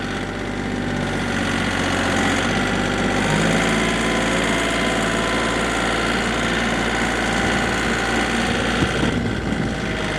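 A Kioti CK3510 compact tractor with its engine running steadily close by, giving a constant mid-low idle drone with a slight knock and some vibration throughout, and no talking.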